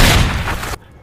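A loud, booming pistol gunshot fired by a train conductor in the 2008 horror film The Midnight Meat Train, one heavy blast with a rumbling tail that cuts off abruptly.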